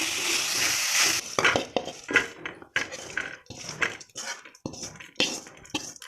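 Ingredients fry in oil in a pan for a drumstick gravy, a loud sizzle at first, then repeated clanks and scrapes of a metal spoon stirring against the pan.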